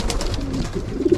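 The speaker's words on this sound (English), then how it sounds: "so I put my stock pigeons in here now." Stock pigeons coo in an aviary, a low soft repeated cooing that swells louder toward the end, close by with no talk.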